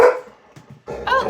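A puppy gives a couple of short, sharp barks nearby, with a brief gap between them and a quiet room around.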